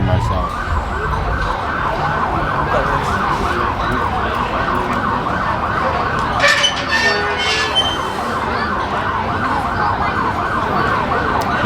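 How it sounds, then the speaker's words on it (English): An ambulance siren wails steadily in a repeating rising-falling pattern for the whole stretch, loud and near on a Louisiana street, with traffic noise beneath and a brief burst of noise partway through. "And there's an ambulance."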